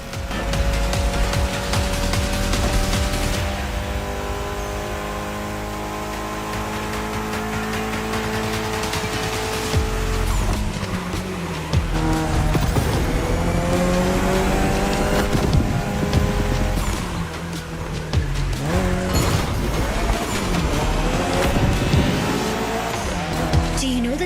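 Mitsubishi Evo X racing laps in The Crew Motorfest, its engine droning loud and steady with rising and falling revs through gear shifts and repeated tire squeals on corners, continuous throughout with no talk.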